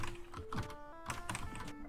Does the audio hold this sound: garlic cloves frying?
no